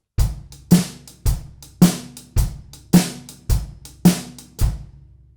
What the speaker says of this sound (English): a normal shuffle would sound a bit like this.